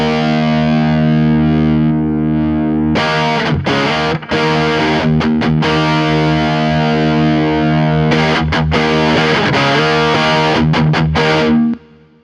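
Electric guitar through a cheap Klon clone overdrive pedal rings out a held chord, then strums into thick, crunchy overdriven chords with choppy rhythmic breaks, loud and close before the sound cuts off.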